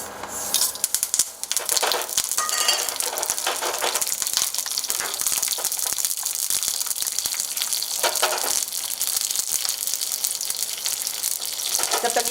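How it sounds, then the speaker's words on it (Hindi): Mustard seeds, curry leaves and red chillies tempered in hot oil give a continuous crackling sizzle, loud and close, with fine popping bursts over the whole stretch and no talk. "इसमें मैं ये तड़का लगा रही हूँ"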